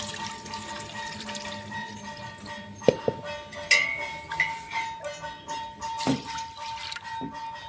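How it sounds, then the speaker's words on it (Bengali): Lentils being washed in water in a pot, with sloshing, drips and swirling splashes, plus a few sharp knocks of a vessel, close and moderately loud. "দু তিনবার করে ডালটা ধুয়ে নেব"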